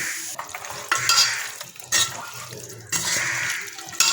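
Spices with chili powder, cumin powder, salt and ginger-garlic paste are mixed by hand in a bowl, wet squelching and rubbing sounds coming in uneven bursts, close and fairly loud.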